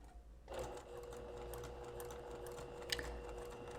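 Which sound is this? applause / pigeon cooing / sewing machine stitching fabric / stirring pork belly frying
sewing machine stitching fabric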